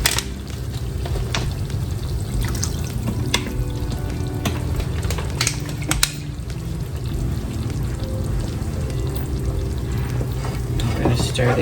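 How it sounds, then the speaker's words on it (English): Chicken simmers in a pan of water and chicken bouillon, sizzling and bubbling steadily up close while a utensil scrapes and stirs with scattered clicks and taps. "Stir this up."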